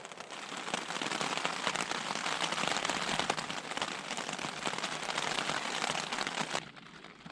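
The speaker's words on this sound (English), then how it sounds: "It's starting to rain now." Rain patters densely and steadily on a wilderness campsite during a canoe trip in the Quetico, a close, hissing spatter with crackling drops that cuts off near the end.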